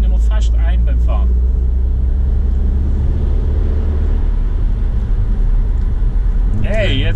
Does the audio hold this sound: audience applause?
no